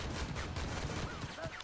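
Rapid gunfire in a video game battle on a hill, with dense crackling shots rattling continuously over a busy, noisy background across a short stretch.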